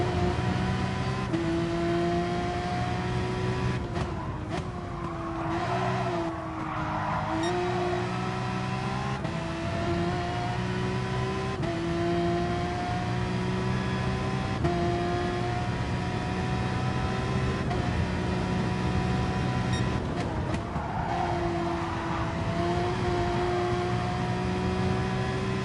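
A race car engine in a video game at Brands Hatch GP drones continuously, its pitch rising and falling through gear changes and throttle lifts, with faint tyre noise and occasional clicks, no voices.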